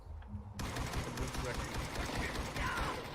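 Video game gunfire breaks out abruptly, with rapid bursts of automatic shots that continue steadily for a few seconds, loud and close.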